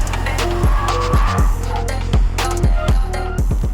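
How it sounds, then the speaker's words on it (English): A 2024 Force Gurkha SUV on larger wheels pounds over bad roads and speed breakers without slowing, its engine droning steadily while the suspension and tires thump in repeated heavy knocks from the cabin. "this 2024 Gurkha has got larger wheels, yet despite that, it can just clobber bad roads and over speed breakers"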